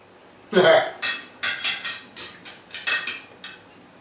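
A fork scrapes and clinks against a plate while scooping Christmas ham and jelly, about eight distinct close scraping strokes in an uneven rhythm, no talking over them.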